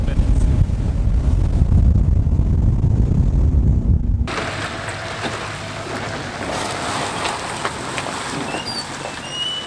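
Heavy wind buffets the microphone with a low roar for several seconds, then gives way to a steadier hiss of wind and choppy water.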